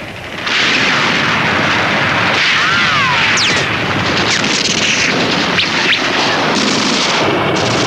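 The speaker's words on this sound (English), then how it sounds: "Behind the Soviet bombardment, Zhukov's 3rd Shock Army and his 47th Army erupted into the city streets." Soviet artillery bombardment of Berlin in archival war footage: a loud, dense roar of shellfire and explosions rolls continuously, with sharp high whistles of incoming shells cutting through the noise.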